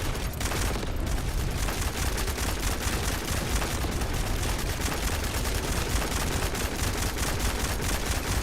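Continuous rapid gunfire in the shooter game The First Descendant, firing at lava balls: a dense, unbroken stream of loud, close shots running the whole time with no pauses and almost no talking.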